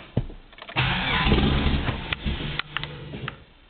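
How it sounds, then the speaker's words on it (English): A Dodge Neon engine with a new MS engine-management setup cranks over, a steady churning starter run lasting a couple of seconds, followed by a few short sputters as it nearly catches, close and fairly loud. "let's see what happens when I crank her over."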